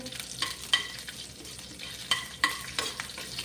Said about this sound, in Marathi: आता व्यवस्थित हे सगळं आपल्याला हलवून घ्यायचं आहे